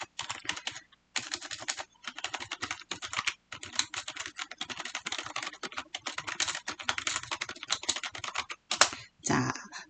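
Rapid keystrokes clatter on a computer keyboard as text is entered into an Excel spreadsheet cell, a brisk continuous run of close clicks broken by a few short pauses.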